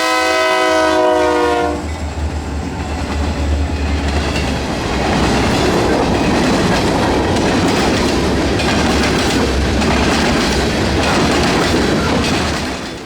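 A loud train horn blares for a couple of seconds, then a US Sugar Corporation freight train rumbles past close by on its private railroad near Clewiston, Florida, with steady rhythmic clacking of wheels on rails.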